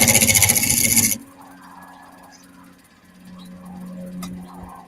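A chisel cuts a wooden bowl turning on a lathe, a loud raspy shearing burst at the start, then quieter scraping and rubbing as the tool works the surface.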